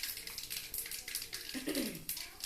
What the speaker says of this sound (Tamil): கடுகு நல்லா பொரிஞ்சு வரும்.